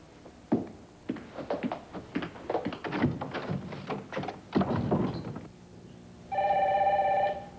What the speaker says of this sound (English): I guess Nigel hooked the phone up.